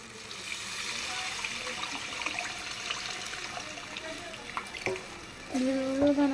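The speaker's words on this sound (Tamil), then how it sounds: "இப்போ புளித்தண்ணி ஊற்றிக்கலாம்." Tamarind water pours and trickles into a pan for fish curry with a steady watery rush, faint background voices, and a louder splash near the end.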